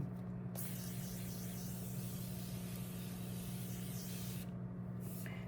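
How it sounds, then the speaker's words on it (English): Setting spray misted onto a face, one long continuous hissing spray lasting several seconds, close and steady over a faint hum. "we're going to spray our face down"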